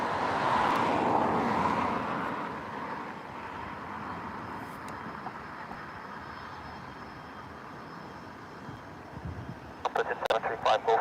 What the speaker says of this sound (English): Oh, there's a little biz jet here. I believe that's a PC-24.